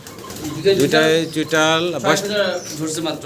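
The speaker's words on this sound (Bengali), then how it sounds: "ইরানি টগি কবুতর দেখাচ্ছি আপনাদেরকে।" Iranian Toggi pigeons, a young fancy pair, cooing in repeated rolling, throaty calls close by, with a few chirps among them.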